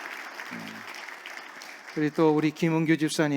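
Church congregation at a Korean church in Orange County clapping in a steady, moderate patter for about two seconds before a voice starts speaking over the fading applause.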